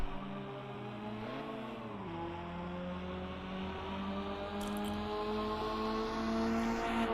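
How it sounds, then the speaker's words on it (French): Another car's engine sounds on the Nogaro racing circuit in the rFactor 2 racing game, a steady droning tone with a brief pitch shift early on and a slight rise toward the end. "Vous entendez une autre voiture sur le circuit, mais c'est pas moi."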